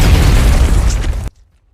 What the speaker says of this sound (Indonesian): Kena granat.